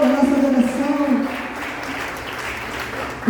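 Church congregation applauding during worship, a loud continuous wash of clapping with a preacher's voice speaking over it at the start and again near the end.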